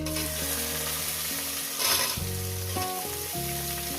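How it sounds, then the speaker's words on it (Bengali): Onions frying in oil with bay leaf, whole garam masala and cumin for a chicken curry with potato and cauliflower; a steady, close sizzle continues throughout, with music playing in the background. "পেঁয়াজটাকে দিয়ে আমি তিন মিনিট ভেজে নেব লাল লাল করে"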